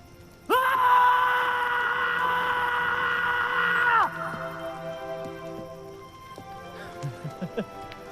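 A loud, strained scream held for about three and a half seconds, as in a Hindi movie scene of people yelling at the top of their lungs, then it cuts off into quieter ringing noise with a few faint thuds.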